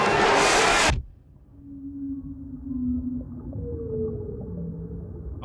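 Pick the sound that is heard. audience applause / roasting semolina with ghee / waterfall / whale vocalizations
whale vocalizations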